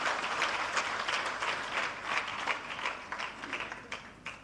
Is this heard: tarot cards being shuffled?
no